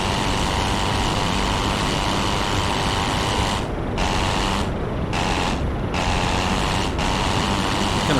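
A Pfalz E.II aircraft engine in the Rise of Flight video game drones continuously and loudly, with a few brief cut-outs of the upper hiss as the throttle is blipped.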